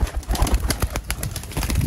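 Pigeons of a high-flying breed kept on a rooftop loft make fluttering, clattering bursts with faint cooing close by, in uneven pulses.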